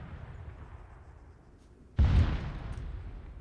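In ARMA 3 Exile, an artillery shell explodes and destroys a building with one sudden, loud boom after a quiet low rumble, followed by a heavy rolling rumble that slowly fades.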